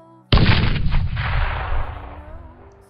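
A single loud, deep firework explosion booms at night, followed by a long crackling, rumbling decay that fades over a couple of seconds.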